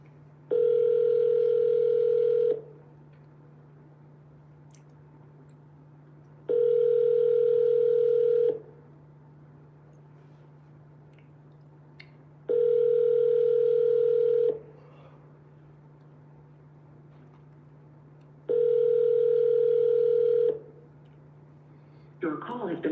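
Phone call ringback: four evenly spaced long ringing tones separated by silent gaps, with a steady low hum underneath throughout.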